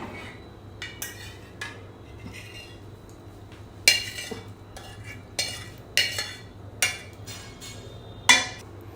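A utensil stirs and scrapes cooked pasta through red sauce in a pan, making irregular clinks and knocks against the metal over a soft scraping bed, close and without talking.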